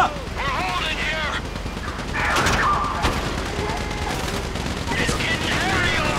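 Gunfire in a Grand Theft Auto V shootout, with bursts of shots and sharp cracks over a busy background of game sound and voices throughout.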